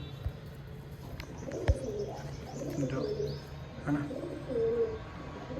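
Pigeons cooing in a flock gathered at a feeding and drinking spot, with several soft, rolling coos rising and falling across the clip over a steady background murmur and a brief flutter of wings.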